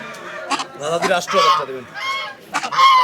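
Several loud domestic goose honks ring out in quick bursts, close by, with a busy village market murmur and some voices mixed in.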